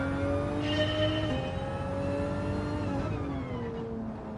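A race car engine in Gran Turismo 7 holds a high, whining tone that shifts pitch as it revs through the gears, loud and steady with no talk over it.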